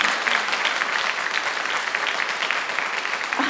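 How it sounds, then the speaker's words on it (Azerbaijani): Students from the Azerbaijan Academy of Labour and Social Relations applaud in a dense, loud burst of clapping that runs steadily from start to finish. "bir özünüzü yaxşı-yaxşı alqışlayın"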